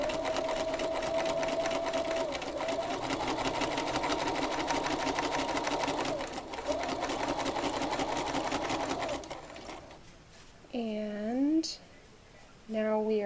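A sewing machine does free motion quilting in a jigsaw-puzzle pattern, stitching in a fast, even, close whir for about nine seconds before stopping, followed by a few brief sounds like a voice.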